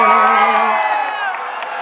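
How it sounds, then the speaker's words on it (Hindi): An audience at a mushaira poetry recital erupts in a short burst of loud cheering and shouting that fades slightly over under two seconds. "इतनी कमजोर ताली से काम नहीं चलेगा"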